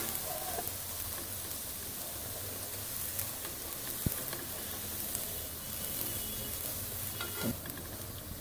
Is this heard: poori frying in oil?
yes